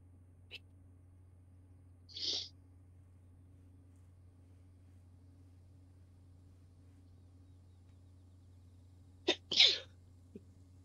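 Mostly quiet room with steady low hum; a faint click and a short soft sneeze early, then after a long pause a clearer sharp double sneeze nearby.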